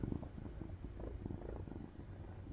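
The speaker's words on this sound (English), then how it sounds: "She's purring." A cat purrs close up in a steady, low rumbling rhythm of soft pulses, continuous through the short stretch with no voices over it.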